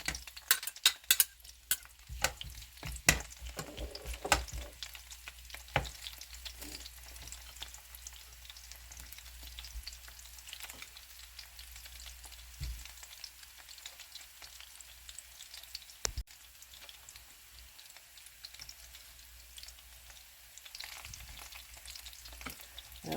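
Onion and meatballs fry in a pan with a steady quiet sizzle, opening with a flurry of spoon clinks and scrapes that thin out to occasional knocks as the cooking continues, no voices.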